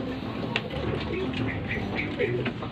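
Pigeons coo softly in a pigeon loft, low murmuring calls over a busy background of rustling and faint chatter.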